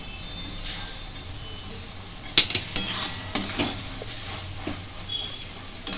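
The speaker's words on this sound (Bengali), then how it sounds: "এরপর আমি এরকম করে আস্তে আস্তে নেড়ে নেড়ে আর ভাজতে থাকবো" A utensil stirs veg Maggi noodles with carrots in a pan, giving scattered scraping clinks and taps over a faint sizzle.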